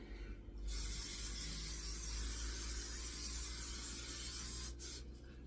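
Hissing spray from a spray bottle coating a phyllo sheet for orange pistachio baklava: one steady, close burst lasting several seconds, with soft mechanical clicks at the start and end.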